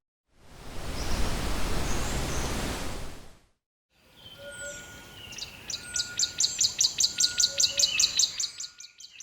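Small birds chirp and tweet in a rapid, repeated series of bright calls, following a burst of broad rustling noise, heard in a quiet outdoor autumn setting.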